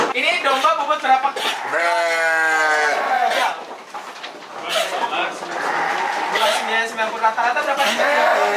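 Garut sheep of 5 to 30 kilos being weighed give a loud, drawn-out bleat near the middle, with someone talking over livestock-pen noise before and after.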